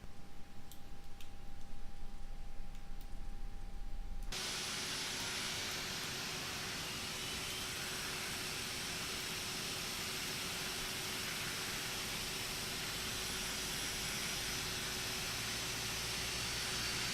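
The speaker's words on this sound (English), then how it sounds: "Alright, engine number 2 is turning over" Airbus jet engine number 2 spinning up in X-Plane 11, heard from inside the cabin: a faint tone gives way to a steady, even broadband whoosh with a thin whine that holds for many seconds, quiet and muffled.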